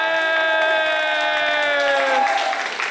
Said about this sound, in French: j'aimerais quand même un tonnerre d'applaudissements parce qu'ils nous ont super aidés pour la cuisine, Momi and Daddy.